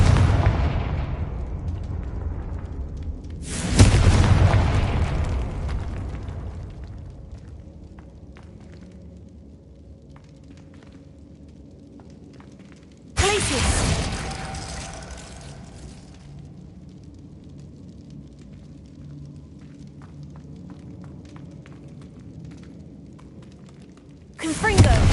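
Confringo spell explosions in a wizarding video game, two heavy booming blasts several seconds apart, each with a rumbling decay, and a third starting at the very end. A voice calls out the spell name.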